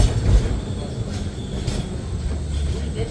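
A steady low rumble of a sightseeing train rolling along the rails in Zhangjiajie's Tianzi Mountain area, with a constant broadband hiss and faint rattling throughout.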